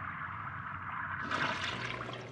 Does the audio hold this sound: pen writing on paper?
no